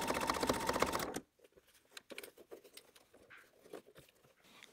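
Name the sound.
sewing machine topstitching a zip pouch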